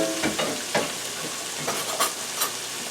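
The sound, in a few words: broccoli dropped into a hot pan, sizzling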